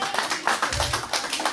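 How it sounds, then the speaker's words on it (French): A church congregation clapping during a Sunday service, a brief burst of many hands applauding together in quick, uneven rhythm, close and moderately loud with no talk. "Applaudissez pour la gloire de Dieu"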